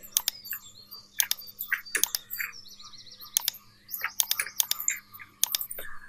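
Computer keyboard typing at a desk while entering a company name for a logo design, with bursts of quick close key clicks separated by short pauses and a steady low hum underneath.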